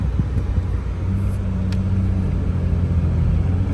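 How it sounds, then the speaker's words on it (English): A Nissan G35 with a swapped engine hums low and steady while driving, its idle rising and falling slightly under a constant road rumble. "I'm realizing right now it's revving up and down a little bit right now"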